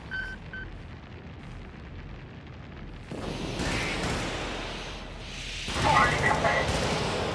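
Gunfire and explosions in the Helldivers video game, with rumbling blasts and crackling fire building up and swelling loudly midway, and voices talking over the combat.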